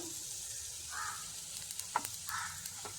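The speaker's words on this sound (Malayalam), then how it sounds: "ചേർത്തിട്ട് ഒന്ന് ഇളക്കി കൊടുക്കാം. ടൊമാറ്റോയും വഴണ്ടു വന്നു." Chopped tomato sautéing in a jackfruit curry masala, a steady faint sizzle with a few light stirring scrapes and ticks, no voices.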